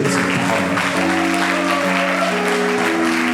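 A wedding congregation in a French-language church service claps and cheers in praise, sustained dense applause with voices mixed in, loud and continuous throughout.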